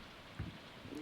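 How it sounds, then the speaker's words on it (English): Steady soft rain falls in the Stardew Valley video game during summer, a faint continuous hiss with a brief louder patter midway, heard alone without talk. "The flowers seem to love this rain."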